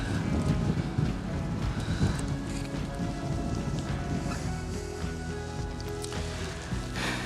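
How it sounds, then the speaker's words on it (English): Wind gusts steadily outdoors at an old rotted wooden tower in the Ouachita forest, a continuous rushing buffet with microphone wind noise rising and falling throughout, no talking. "The wind is picking up."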